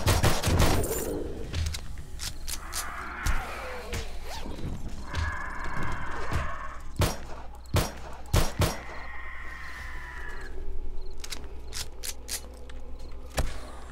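Bursts of gunfire rip through a zombie horde night in 7 Days to Die, with scattered single shots and rapid volleys spread across the scene, loud and close amid clattering mechanical noises.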